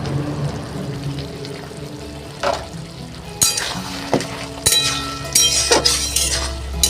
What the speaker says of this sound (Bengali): ডাব ডাব ডাব করে ঝোলটা ফুটছে।